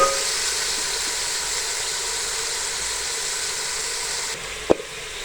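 Chicken pieces with onion, bay leaf and chopped carrot sautéing in a pot for Turkish soup give a loud, steady sizzle and hiss, broken by one brief knock near the end.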